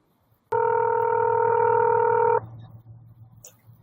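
A telephone number is keyed in as one steady, loud dual-tone beep lasting about two seconds, then falls away to a low hum and faint line noise.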